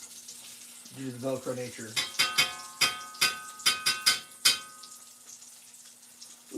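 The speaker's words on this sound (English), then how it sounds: "It's an advanced egg cooking technique to cook eggs on a bacon frying cast iron after you cook bacon" Eggs frying in a cast iron pan greased with bacon fat give a run of sharp, close crackling pops and spits after a brief stretch of speech, with a faint sizzle underneath.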